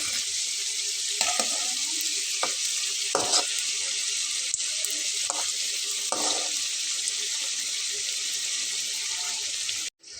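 Steady, loud hiss of potato and flour snacks frying in hot oil, with occasional crackles and pops rising out of the sizzle. No voices.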